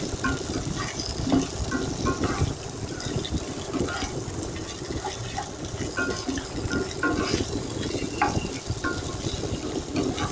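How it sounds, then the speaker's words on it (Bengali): Mixed vegetables for shukto frying lightly together in a pan, giving a steady, close sizzle and crackle with faint scraping and clinking throughout, no voices. "আমি এগুলোকে একসঙ্গে একটু ভেজে নিচ্ছি"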